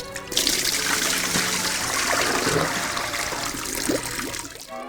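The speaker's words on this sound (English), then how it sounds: "Drain again, holding the garment to the side." Water draining from a sink or wash bowl after a garment is rinsed in cold water by hand: a steady gurgling, trickling rush that runs for several seconds, then fades out at the end.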